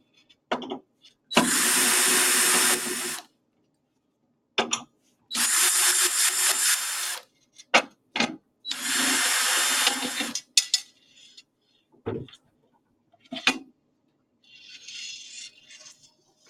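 A power drill backs screws out of a tool's top plate in three long, loud whirring runs, separated by short blips, clicks and small handling knocks, with a faint hiss near the end.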